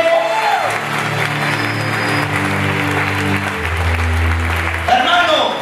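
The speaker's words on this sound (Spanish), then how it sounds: "den un fuerte aplauso a la gente de Dios" A church congregation applauds at an evangelistic campaign service, a dense wash of clapping that runs throughout, heard under a voice speaking over it, with sustained tones from an accompanying instrument.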